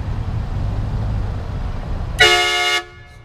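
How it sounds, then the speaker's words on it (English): A train horn fitted to a Ford Mustang gives one loud, sustained blast of about half a second, rich in stacked tones, cutting in sharply over a low idling rumble and ending abruptly. "I'm gonna make him honk the horn."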